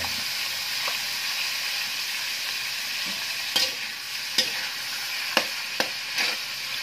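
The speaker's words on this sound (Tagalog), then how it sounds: "Natin itong laman hanggang mag-brown bago natin siya lagyan ng mga panggisa." Pieces of meat for dinuguan sizzle in hot oil in a pan, a steady crackling hiss broken by several sharp scrapes and clacks of stirring near the end.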